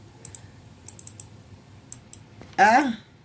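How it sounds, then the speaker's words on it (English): Keystrokes on a computer keyboard, a scatter of light separate clicks and short bursts across a few seconds, close and fairly quiet, with a louder voiced sound near the end. "I'm actually trying to type in my information back there"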